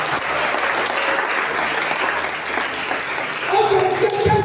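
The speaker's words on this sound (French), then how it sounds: "Comme les acclamations du Seigneur" A church congregation applauds in praise during a worship service, sustained clapping with voices rising over it near the end.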